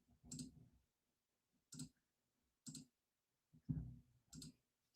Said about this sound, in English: Sorry, I'm clicking.